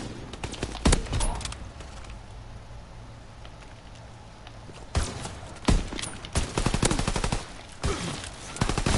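Shotgun blasts in a first-person shooter video game, sharp loud reports at irregular intervals with rattling bursts of gunfire between them over a steady low background rumble.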